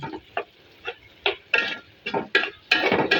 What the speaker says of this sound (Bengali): শুটকিটা এগুলোর সাথে ভালো করে ভাজা ভাজা করে নেব।